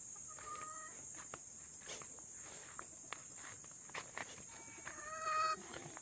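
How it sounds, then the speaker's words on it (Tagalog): Chickens cluck in short bursts at the start and near the end, while footsteps crunch steadily over the ground against a high steady hiss. "Dami manok dito."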